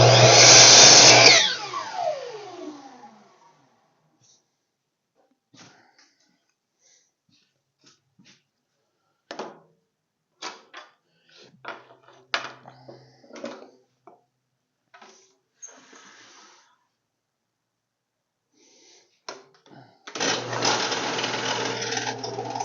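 Power tool cutting wood for a kids' airplane rocker, a loud burst of whining cutting at the start that quickly winds down, then scattered handling knocks and clatter, and a loud steady roar returns at the end.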